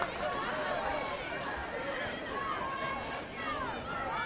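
A loud crowd at a 2012 South Carolina AAAA high school girls soccer championship match, a dense, steady roar of cheering and chatter from across the field, sustained throughout with no break.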